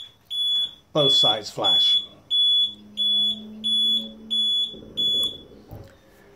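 A high electronic beep repeats at a steady pace, about once every half second, while someone talks briefly near the start.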